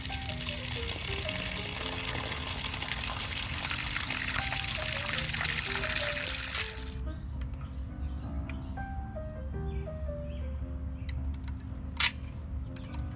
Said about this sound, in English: This now makes the third time we're going to turn the water on